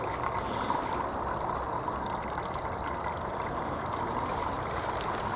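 Water trickling and pouring steadily through a Millbank filter bag holding leaf matter and muck, a continuous close splashing flow with no talk.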